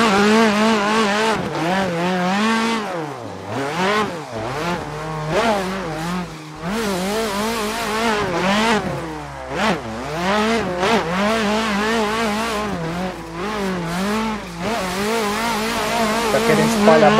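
A Chevrolet Chevette drifting in Assetto Corsa, its engine revving up and down loudly while the tires squeal and skid almost continuously through long slides. No talking.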